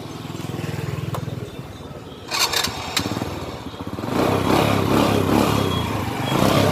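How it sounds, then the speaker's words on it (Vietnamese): A 2003 motorcycle with its original engine sputters, catches with a few sharp clicks, then settles into a loud, steady chugging idle close by. "Mình sẽ nổ máy anh em nghe"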